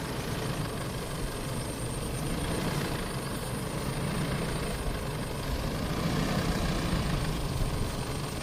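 A car engine runs with a steady, close, low rumble that holds fairly even for several seconds, with no sharp rise in pitch or distinct revs.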